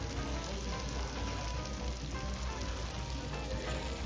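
Constant dense sizzle of food cooking aboard a 48ft Beneteau Oceanis sailboat, an even crackling hiss that stays steady and moderately loud throughout with no talk.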